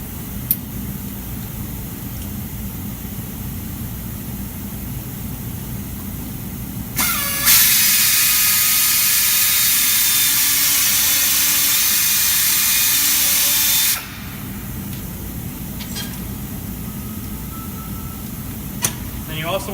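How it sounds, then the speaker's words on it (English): Drill boring out a hole to take a new plug, a loud steady high whine lasting about seven seconds in the middle, starting and stopping abruptly, with quieter background noise before and after. "So I'm going to drill it out."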